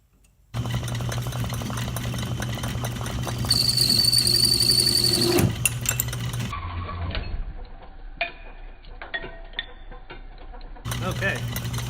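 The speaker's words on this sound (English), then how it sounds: "I'm going to put a blank in there and see if I can actually do a good cut" An antique Atlas lathe set up for milling cuts into a 316 stainless steel blank, giving a steady mechanical hum and clatter that shifts partway through into sparser ticking and scraping, with brief quieter gaps.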